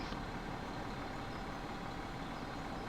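Farming Simulator 17 tractor reversing to dump chaff into a silage bunker, a steady low engine drone with a faint beep at the start, continuous and fairly close.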